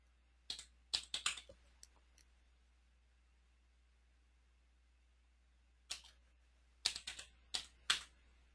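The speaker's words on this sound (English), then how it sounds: "I started typing and it's coming up with things." Two bursts of quick keyboard typing separated by a few seconds of near silence, close and crisp with irregular keystroke rhythm.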